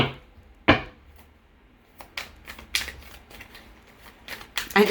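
Tarot cards are shuffled by hand in a quiet room, giving soft, papery riffles and sharp taps in short irregular bursts, close and fairly faint.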